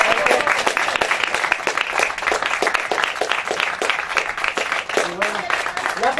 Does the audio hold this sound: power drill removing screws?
no